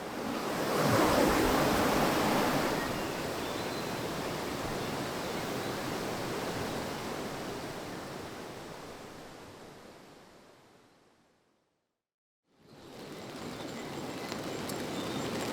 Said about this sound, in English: Can you hear that? That is the sound of rain.